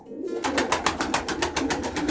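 Pigeons cooing inside a brick pigeon loft on a frosty day: repeated soft, throaty coos in a steady pulsing rhythm, close by and alone without talk.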